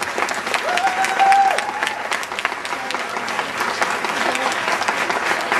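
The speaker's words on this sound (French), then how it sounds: "Je vous demande d'accueillir sous applaudissements Nathalie Dosset" An audience at a foundation-stone ceremony for a vocal and stage creation centre in Aulnay-sous-Bois applauds to welcome an opera singer, steady, moderately loud clapping with a brief tonal sound early on.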